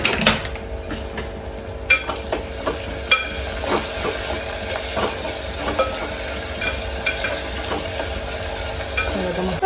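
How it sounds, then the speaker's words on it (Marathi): A tomato and coriander masala is stir-fried in a pan, with a continuous close sizzle broken by occasional spoon scrapes and clinks, no voices. "सर्व व्यवस्थित परतवून घेते"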